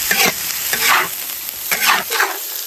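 Bamboo shoots and chili are stir-fried in a wok, giving a loud, steady sizzle broken by repeated scraping strokes of a spatula, close up.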